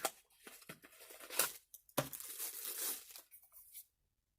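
A sticker seal is peeled off a small cardboard mouse box, several close, quiet tearing and crinkling rips in quick bursts over a few seconds.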